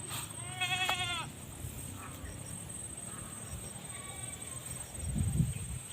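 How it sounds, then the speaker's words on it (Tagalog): Pet goats on a farm give a short run of bleats early on, then a few faint calls over steady outdoor background noise, with a low rustle near the end. "Bisita na po natin ating mga alagang kambing"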